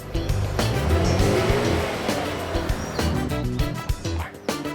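Chevrolet Equinox engine revving on a car lot, a loud, steady roar that swells and holds, then dips and surges again in short bursts toward the end.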